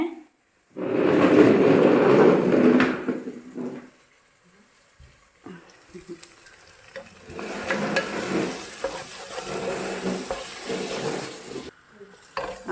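A spoon stirs prawn biryani masala in a hot pan, making scraping, sizzling sweeps. A loud burst comes first, then a quiet pause, then a longer stretch of softer, uneven stirring and frying.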